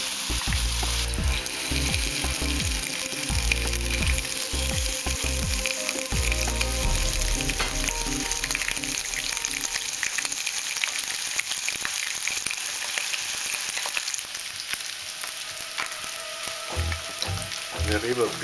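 Sea bream frying in an oiled pan sizzles continuously and loudly up close, with some tonal background sounds in the first seconds before the hiss carries on alone.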